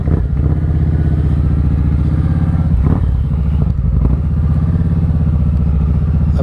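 A touring cruiser motorcycle fitted with an aftermarket exhaust runs close and loud, with a deep rapid-firing exhaust burble and occasional throttle changes.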